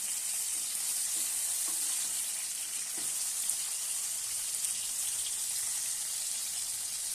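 Brinjals frying in a pan for bagara curry, a steady soft sizzle with a bright hiss and occasional faint stirring clicks, continuous and quiet with no talking.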